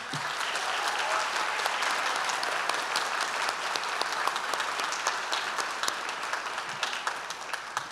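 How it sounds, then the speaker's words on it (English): Sustained applause from a crowd at a school district board meeting, an even, dense clapping that holds steady for several seconds at moderate volume with no speech over it. "Please join me in a round of applause for Martha."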